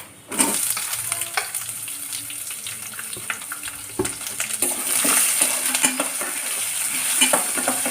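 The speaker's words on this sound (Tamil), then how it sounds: "இந்த இதில் வந்து வெங்காயம் போட்டுருவோம்" Onions dropped into hot roasted spices in a pan and fried, sizzling swells after an initial hit, with frequent spatula scrapes and taps nearby, no speech.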